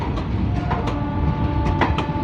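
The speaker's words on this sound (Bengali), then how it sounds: "Santragachi Guwahati special fair express Santragachi station ছেড়ে বেরিয়ে যাচ্ছে" A Santragachi–Guwahati special fare express passenger train departs Santragachi station, rolling along with a steady rumble and rhythmic clattering of wheels over rail joints, close by and fairly loud.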